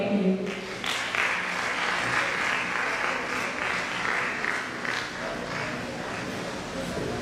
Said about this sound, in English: Let's give them a big round of applause for that wonderful performance.